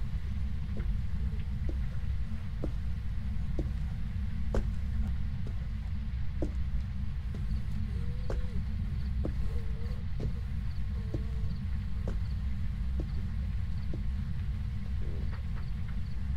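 Slow Revenant ghost footsteps in Phasmophobia: sparse, faint clicks spaced a second or more apart over a loud, steady low rumble, with a few brief tonal chirps in between.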